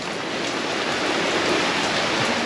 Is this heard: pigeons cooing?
no